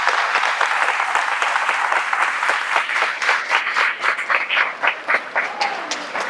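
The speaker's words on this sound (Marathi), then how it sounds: "एकदा जोरात टाळ्या व्हायला पाहिजे।" A crowd at a Hanuman pilgrimage procession celebration bursts into loud, dense applause that thins toward the end into looser, separate claps.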